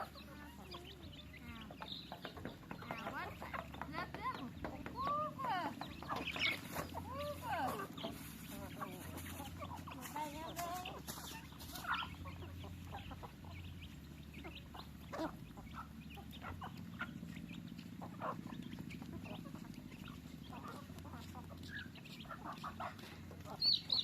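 Chickens clucking and a rooster on a rural farm in Laos among livestock, scattered clucks and calls near and far over a continuous outdoor background, with talk in the clip.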